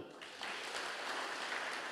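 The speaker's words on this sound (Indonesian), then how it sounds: "Tepuk tangan buat Tuhan." A church congregation claps for God during a Sunday worship service, a dense burst of applause that starts softly and swells after a moment, then holds steady and loud to the end.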